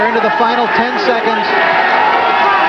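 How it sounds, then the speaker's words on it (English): A steady crowd roar at a boxing match rumbles in the background throughout, under a commentator talking. "We're going to have a real roar here when the final bell ends"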